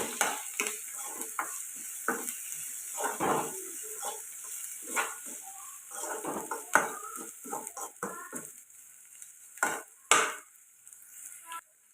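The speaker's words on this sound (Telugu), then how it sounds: "ఉల్లిపాయలు బాగా ఫ్రై అవ్వాలి ఇలా ఫ్రై అవుతాను కదండి" Onions and curry leaves frying in a pan for an egg curry, with steady sizzling broken by frequent stirring scrapes and clatters, close and fairly loud, no talking.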